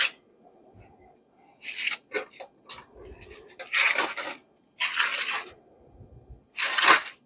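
A knife slices through smoked, brown-sugar-glazed pork belly in several crisp, crackly bursts spaced across the moment, each a short rasping cut, with quiet pauses between.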